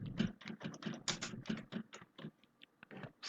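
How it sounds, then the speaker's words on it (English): A product keyword being typed on a computer keyboard: quick, irregular bursts of crisp key clicks close to the microphone, thinning out toward the end. "So let me just type in my product keyword."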